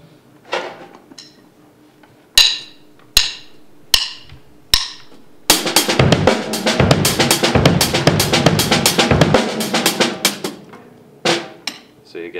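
Drum kit exercise with the snare accented on beats two and four: a few sharp isolated hits, then a dense run of hi-hat and snare strokes with stronger accents, close and clear, tapering to scattered single hits.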